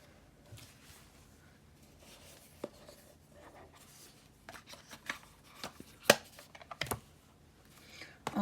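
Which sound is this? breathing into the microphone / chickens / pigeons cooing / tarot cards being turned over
tarot cards being turned over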